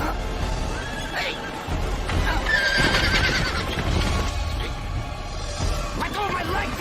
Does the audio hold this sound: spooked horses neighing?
yes